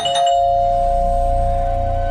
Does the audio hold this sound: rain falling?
no